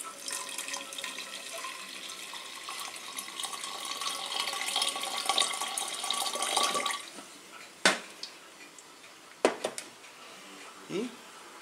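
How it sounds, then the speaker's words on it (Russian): Water is poured onto sugar and dry kvass for a homemade kvass starter, giving a steady splashing pour for about seven seconds, followed by a few sharp knocks and small clinks. "заливаем немного воды."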